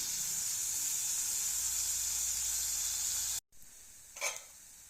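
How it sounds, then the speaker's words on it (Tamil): Small onions (shallots) sautéing in a clay pot give a steady, bright sizzle that runs unbroken, then cuts off sharply before a quieter stretch with a brief stir or scrape. "இந்த சின்ன வெங்காயம் பாதி அளவில் வதங்கட்டும்"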